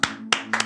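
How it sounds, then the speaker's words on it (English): A single person claps a few times, sharp separate slaps near and fairly loud, with a low steady hum running underneath in a kitchen setting. "I got a clap for that."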